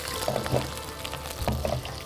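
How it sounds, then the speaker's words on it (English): Sliced onions dropping into a pan holding a little water, soft wet splashes and sizzling patter in a few short bursts, faint and close. "Just transfer the onions in it slowly and gradually"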